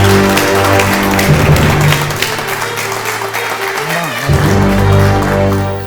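Audience applause greets guest Ismo Vitalo on a talk show, loud clapping over a sustained musical bed with low tones that briefly drop out before returning.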